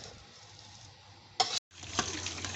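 Mango pieces and sugar syrup stirred in a pot on the stove, a soft bubbling simmer with a brief louder scrape and clatter, a sudden cut to silence, then the simmer resumes.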